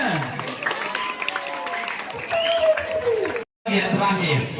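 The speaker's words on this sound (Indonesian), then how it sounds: "Mana tepuk tangannya?" Students applauding at a vocational school orientation, scattered clapping mixed with crowd chatter and light laughter, cut by a brief silent gap near the end before the noise resumes.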